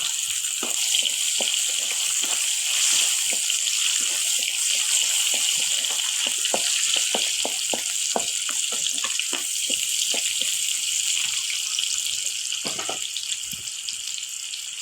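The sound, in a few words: onion frying and being stirred in a pan for fish-head dal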